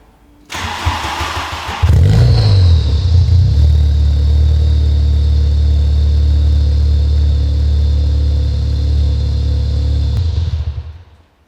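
A VW Golf GTI rally car cranks and fires up close to the exhaust, then holds a loud, steady, rumbling idle before cutting off abruptly near the end. No one speaks.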